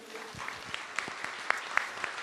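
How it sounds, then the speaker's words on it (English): Conference audience applauding for a panel speaker, a light, moderately distant patter of hand claps with a few sharper individual claps standing out, steady for a couple of seconds. "Big round of applause for you."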